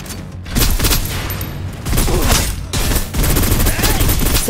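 Heavy suppressive gunfire in the shooter game Snowbreak: Containment Zone, loud and continuous sustained bursts with brief dips, dense and close throughout.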